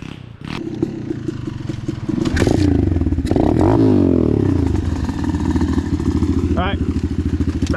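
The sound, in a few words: Apollo DBX15 Chinese pit bike engine while riding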